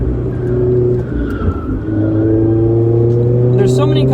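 A 2018 Mazda Miata brakes hard into a left-hand corner, its engine droning steadily with a shifting pitch, loud and close, with a brief dip partway through and light road and tire noise underneath.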